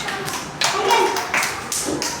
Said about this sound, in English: Clap for Ayansh.